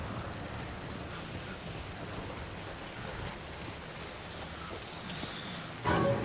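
Steady rain hisses as a dense, even wash in the video game Alan Wake 2, fairly quiet and continuous with no talk, a short bump near the end.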